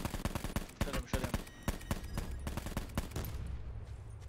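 Rapid bursts of gunfire ring out in the Call of Duty: Black Ops 4 multiplayer match, a dense run of sharp overlapping shots up close that thins into a lower rumble, with players talking over it.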